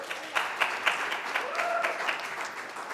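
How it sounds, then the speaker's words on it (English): Audience applause at a labor movement event honoring striking workers, a broad wash of clapping with a few sharper bursts early on, moderately loud and steady over three seconds with no talk on top. "You can give them an applause."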